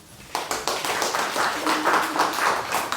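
A gathered audience at an ISKCON temple gives visitors a round of applause, a dense burst of many hands clapping that starts abruptly after a brief quiet moment and carries on steadily, close and lively.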